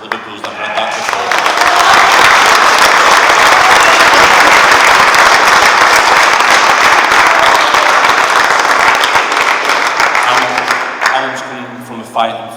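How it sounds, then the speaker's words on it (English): Loud, sustained applause from the audience at a boxing press conference in Liverpool for the fighter Callum Smith, dense clapping swelling quickly and holding steady for about ten seconds before tapering off. "I'd like everyone here to give Callum Smith an applause"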